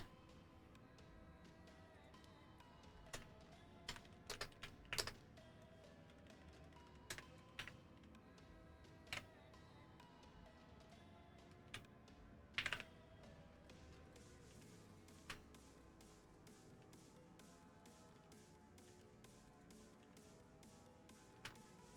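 Clicky computer keyboard typing in an irregular run of keystrokes with a few louder isolated taps, close and moderately loud over a steady low background hum, with no talk.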